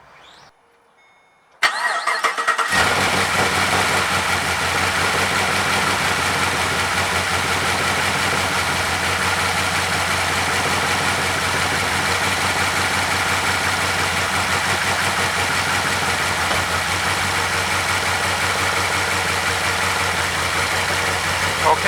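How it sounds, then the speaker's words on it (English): A 2012 Chevy Caprice PPV with a 6.0 V8 cranks after a brief quiet moment, catches quickly and settles into a steady, even idle that holds close and constant for the rest of the clip. "Okay, started up and it's running fine."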